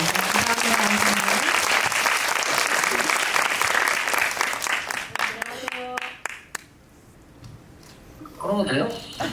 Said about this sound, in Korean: 나우진 감독님 차기작을 기다리는 마음을 담아서 박수 한 번 더 보내드립니다